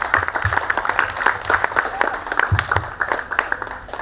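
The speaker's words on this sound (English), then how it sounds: "Can we have a huge round of applause for our narrators?" Applause from the audience at a storytelling session at the Shillong Book Fair, a dense, lively patter of many hands throughout, fairly close and loud, with a few voices mixed in.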